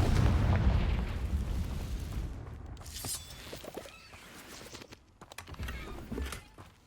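Confringo fire spells and Bombarda blasts burst in a Hogwarts wizarding video game battle against dark wizards, a loud booming explosion up front followed by crackling, rumbling bursts and scattered impacts that fade and flare again.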